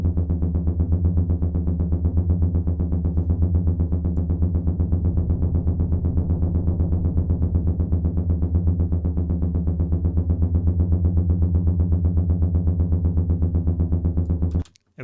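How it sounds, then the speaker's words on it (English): A sustained, droning synth bass line pulses steadily with a wavering, shimmering chorus effect for a wide stereo sound, loud and continuous until it cuts off abruptly near the end. "I want to show you what chorus does on a bass line."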